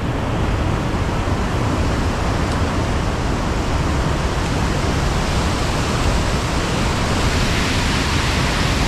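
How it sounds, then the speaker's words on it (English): A large waterfall plunging between two huge megalith rocks into a main drop below, heard as a loud, steady, broadband roar of rushing water that continues unbroken throughout. "It drops down between the two huge megaliths and then drops down to the main waterfall down below there."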